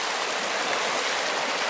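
The Sisquoc River rushes past in a steady, dense, broadband wash of flowing water, close and unbroken, with no voices.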